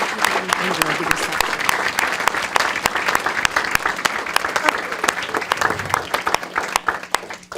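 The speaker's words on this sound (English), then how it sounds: "Let's give our artists a round of applause" Audience applause for young student artists at a school district board meeting and PTA reflections awards ceremony, a steady close burst of many hands clapping that tapers off near the end.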